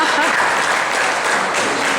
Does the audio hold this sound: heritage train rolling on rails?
no